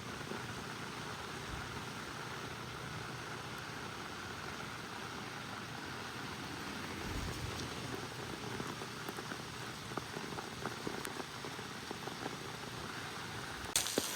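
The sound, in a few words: heavy rain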